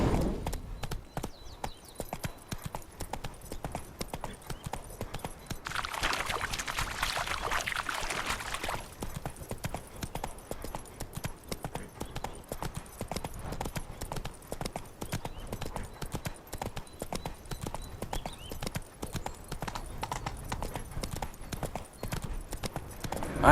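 Horse hooves clip-clop steadily in The Witcher 3 video game, a continuous rapid rhythmic trot of close, crisp hoofbeats, with a brief rushing wash partway through.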